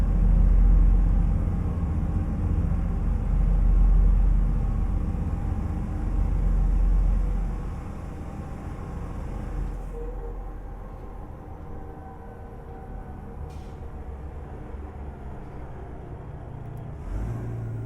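Engine of an International 9800 truck in American Truck Simulator, a steady low rumble cruising near 65 mph that drops to a quieter, flatter drone partway through, continuous and alone with no talking.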